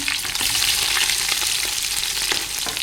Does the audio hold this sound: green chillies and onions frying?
yes